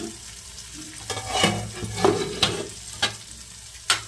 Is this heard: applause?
no